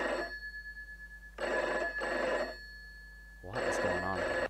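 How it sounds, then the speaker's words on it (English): A telephone rings in repeated bursts, three clear ring cycles with quiet gaps between them, bright and bell-like over a steady low hum. "Oh, phone."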